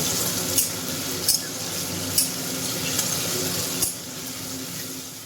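Shrimp frying on a high flame while being stirred in a pan, giving a steady sizzle with several sharp utensil scrapes and clinks, close and fairly loud.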